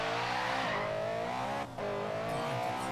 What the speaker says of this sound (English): God, the car just sounds so mean.